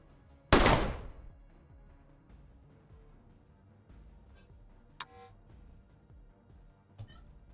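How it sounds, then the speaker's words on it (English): A single loud pistol shot from the Colony Ship RPG video game cracks out near the start and decays quickly. Two faint clicks follow later over a low background. "This little pistol can really shoot."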